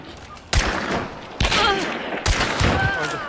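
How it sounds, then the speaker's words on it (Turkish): Three heavy shotgun blasts from the video game Hunt: Showdown ring out about a second apart, each a loud close boom with a ringing tail, over a quieter background. "Pompalı iyiymiş yalnız, iyi vuruyor bayağı."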